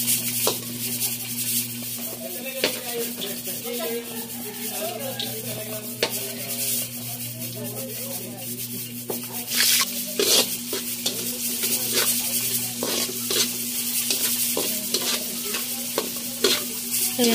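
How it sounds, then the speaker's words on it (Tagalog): Onion and garlic sautéing in a pan for pancit, a steady sizzle with stirring and occasional clinks of utensil against the pan, continuous and fairly close throughout. "ako nagigisa na ng sibuyas at bawang"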